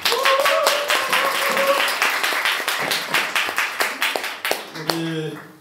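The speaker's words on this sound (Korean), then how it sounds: "박수로 받아주십시오." Audience clapping fills a campaign office opening ceremony, a dense run of hand claps that tapers off toward the end, with brief tonal voices or music cues in the background.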